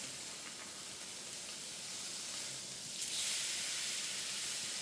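Welsh Wagyu beef sears in butter in a pan, giving a faint, even hiss that grows a little louder over the last couple of seconds, with no voices.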